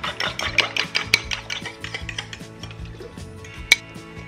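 Two eggs being beaten by hand for raisin brioche dough, a quick run of close, rhythmic whisk strokes clicking against a bowl, steady and moderately loud with one sharp knock near the end.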